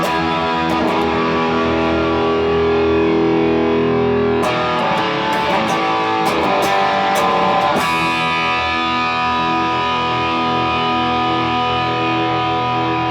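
Loud distorted chords from a Gordon Smith Classic T Deluxe electric guitar ring out with heavy sustain, a few strummed hits followed by long held notes.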